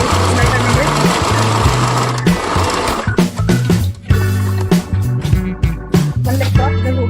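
A sewing machine stitches a bellbottom palazzo pant, its motor whirring loudly in repeated bursts with short stops and restarts; a voice seems to talk over parts of it.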